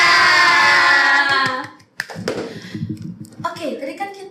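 Children and adults clapping hands together in a group clap routine, rhythmic sharp slaps in short bursts following a sung or chanted phrase, close and lively with voices between.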